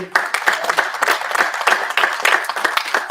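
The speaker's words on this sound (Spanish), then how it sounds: "Un aplauso a esta joven aquí" A church congregation claps in welcome for a young woman, close and fairly loud, with individual hand claps standing out in an uneven rhythm that keeps going throughout.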